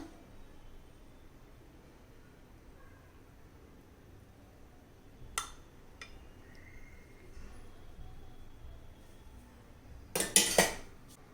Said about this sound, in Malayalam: ഇനി സ്പൂൺ കൊണ്ട് ഇങ്ങനെ ഒന്ന് ലെവലാക്കി കൊടുക്കാം.